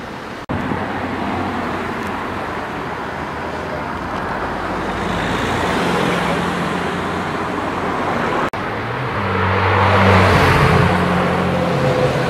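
Road traffic in Harrogate with cars, including a Mercedes C63 coupe, passing close by, a steady engine and tyre roar that swells as one vehicle goes past, ending with another rising approach.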